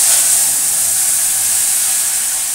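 Dal poured into a hot spice tempering sets off a loud, continuous hissing sizzle that holds steady and close throughout.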